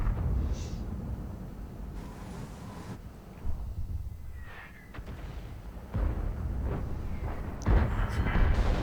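Artillery fire in a WZ-111 tank battle video game comes as several dull booming blasts spaced a few seconds apart, with rumbling gameplay noise in between.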